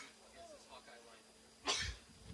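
A single sharp sneeze bursts out abruptly near the end, loud against a quiet background of faint talk during a college baseball broadcast between Iowa and Michigan State.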